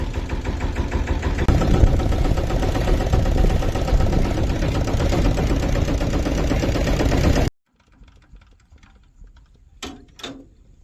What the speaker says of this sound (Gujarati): આ છે ભાઈ આપણું ટ્રેક્ટર તો એમાં જવાનું છે બેસીને